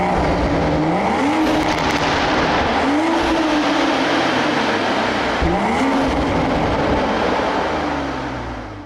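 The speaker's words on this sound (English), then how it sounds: "And now also take a listen to the exhaust note in sport mode." Close, loud exhaust of a 2023 manual Toyota Supra in sport mode, revving through several gear shifts, its pitch rising in sweeps and dropping sharply at each change over a steady, rough engine roar.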